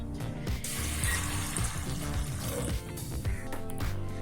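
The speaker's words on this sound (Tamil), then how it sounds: "இப்போ வேக வைக்க 3 கப் தண்ணி சேர்த்துக்கலாம்." Three cups of water are poured steadily into a pressure cooker holding soaked chickpeas, making a continuous close splashing and gurgling that shifts in pitch as the vessel fills, with no talking.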